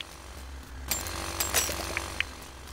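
A jackhammer in the farming video game Dinkum starts up partway through and rattles on in a rapid, harsh, continuous hammering, fairly loud with no talk over it.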